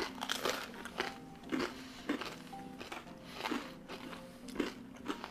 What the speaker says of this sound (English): I love that crunch on the outside.